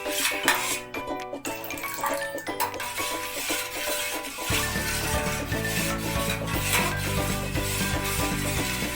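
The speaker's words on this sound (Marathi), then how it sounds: "रस सतत ढवळत राहावा, साखर वितळली आहे की नाही हे पाहावे आणि हे सगळं मंद आचेवर करून घ्यावे।" A spoon scraping and rubbing around a metal pot as sugar syrup is stirred over a low flame, steady and close, with a low hum setting in partway through.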